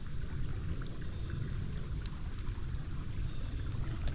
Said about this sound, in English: You hear the little brook.